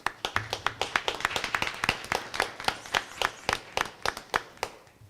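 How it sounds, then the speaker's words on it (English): Clapping at a city council meeting, a small group of hands applauding in a fairly quick, irregular rhythm of sharp distinct claps, moderately close and steady for several seconds with no talk. "they deserve a round of applause for all the hard work they put in."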